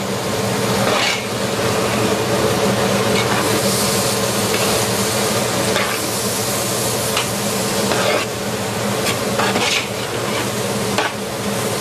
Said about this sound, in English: Stir it in really well.